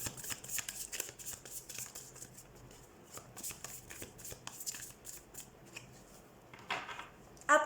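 Tarot cards being shuffled by hand in repeated crisp riffles and flicks, close and fairly quiet, with no talking.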